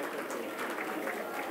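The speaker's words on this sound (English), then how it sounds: "let us give a thunderous round of applause to these incredible parents" Parents receive applause from the audience at a school felicitation ceremony, a brief, even burst of crowd clapping that sounds somewhat muffled and distant.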